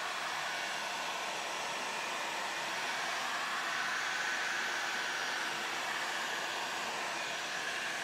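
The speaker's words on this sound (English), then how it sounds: "And we will blow these back and forth." A hot air blower runs steadily over resin toppers, a constant loud breathy rush of air that holds without a break and has no voices over it.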